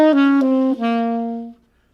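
A short melodic run from the C harmonic minor scale, starting on C: three clean sustained notes played in a row, with the last note ringing out and fading over about a second, close and clear with no talking.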